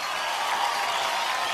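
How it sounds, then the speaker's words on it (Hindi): Loud applause from an awards show audience, a dense, even wash of clapping and crowd noise that holds steady throughout the short moment. "ये जोरदार तालियां मेरे लिए"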